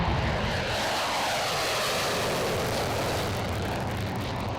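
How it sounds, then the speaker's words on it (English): A jet fighter roars past at an air show, a loud, steady broadband rush of engine noise holding for several seconds without talk. "the crossing speeds are normally quite high, with aircraft doing over 500 knots each"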